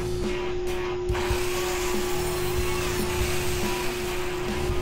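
A cutter slices through wood for an 8x10 painting canvas frame, giving a steady droning hum with continuous gritty broadband noise throughout, fairly loud and close.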